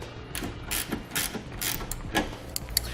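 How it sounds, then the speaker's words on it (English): 10mm wrench tightening the nylon lock nuts on the cover of Westin PRO TRAXX oval nerf bars on a 2014 Ram 2500, giving a series of short, close ratcheting clicks and metallic creaks in an irregular rhythm. "we can use a couple of 10mm wrenches to get these tightened down"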